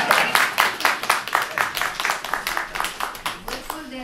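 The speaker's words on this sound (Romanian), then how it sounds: "comăneșteanul Val Mănescu, aplauze prelungite!" Audience applause at a local cultural event, rhythmic clapping in a steady beat heard close and under continuing talk, fading slightly toward the end.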